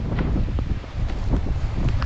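Breezy wind buffeting a microphone while someone walks outdoors in woodland, a steady rushing roar with gusty swells and faint rustling, no talking.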